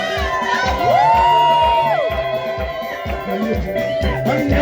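A church worship crowd cheers, with a high, drawn-out ululating cry rising above the shouting over a steady rhythmic music beat, all loud and continuous.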